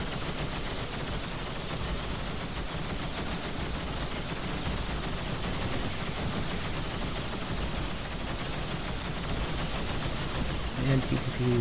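Spaceship weapons fire in a space-combat firefight in the game X3: Albion Prelude rattles nonstop in rapid, dense bursts at an even loudness. A voice talks over the shooting.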